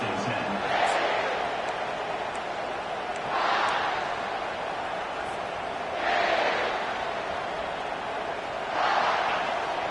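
Stadium crowd noise from an NCAA football video game swells in four periodic roars over a constant background hum, with commentary talk running throughout.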